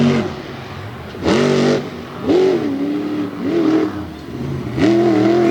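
Monster truck engine at a Jennerstown, Pennsylvania track show, roaring through several hard revving bursts that surge and fall back, loud and close with no talking.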